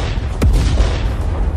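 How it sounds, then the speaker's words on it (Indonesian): A single heavy boom of an explosion in an animated series bursts out near the start, then a low rumbling tail fades out. "mereka tiba-tiba meledak, melepaskan ledakan besar"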